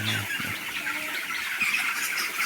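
Chickens at a poultry farm of 1,500 birds squawk and squeal in a continuous, overlapping chorus, fairly loud and close, with no speech over it.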